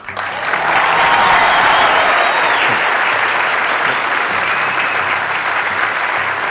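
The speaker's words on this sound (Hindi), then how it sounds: "मेरा दिल रखने के लिए तालियां बजा रहे हो।" An audience claps at a live talk, a dense sustained round of applause that swells quickly and holds steady before easing slightly toward the end.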